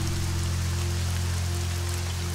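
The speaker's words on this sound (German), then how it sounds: "Und es regnet wieder." Rainfall in the video game Risen 2, a dense steady hiss of rain on surfaces with a low hum underneath, continuous and even, no talking.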